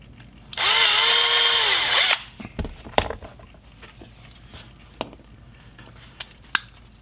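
Power drill boring into the metal base of a Hot Wheels die-cast car: one loud, high whine lasting about a second and a half, followed by a few faint clicks and taps.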